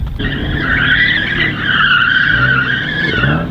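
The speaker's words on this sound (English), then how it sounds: "this is the part in the video where they usually warm up the tyres" Car tyres squeal loudly in sustained wheelspin while being warmed up before a drag race, with a steady howling screech and engine roar throughout, near and intense.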